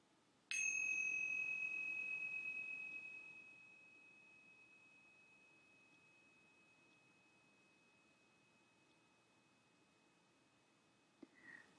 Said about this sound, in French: jusqu'au son de la cloche.